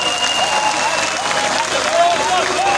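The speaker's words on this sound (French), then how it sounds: "On applaudit pour eux." A large stadium crowd at a closing campaign rally applauds and cheers, a dense continuous roar of clapping with voices mixed in.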